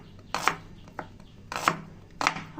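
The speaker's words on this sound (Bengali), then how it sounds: "ছোট ছোট কুচি করে পেঁয়াজগুলো কেটে নেব" Onions are chopped finely with a knife on a board, three close, crisp bursts of rapid cutting separated by short pauses, with a lighter tap in between.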